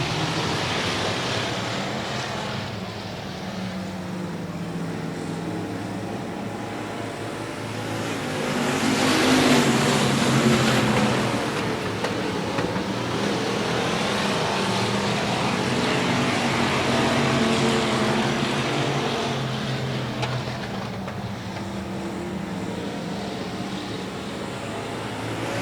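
Race cars on an oval at Heart O Texas Speedway accelerate together on a restart, a broad steady engine roar that swells midway and holds, with no talk over it.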